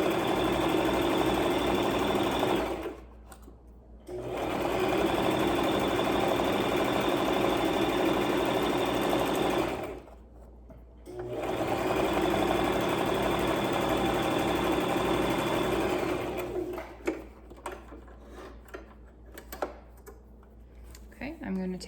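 A sewing machine sews forward with a straight stitch on log cabin pillow fabric, running in steady humming, rattling stretches that stop twice briefly, then giving way to scattered ticks and handling near the end.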